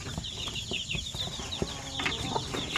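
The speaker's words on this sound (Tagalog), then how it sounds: "Ayan po ang mga sisiw niya." Chickens and their chicks on a backyard poultry farm during the rainy season, with high rapid peeping chirps from the chicks and occasional low clucks, close and continuous over a faint ambient background.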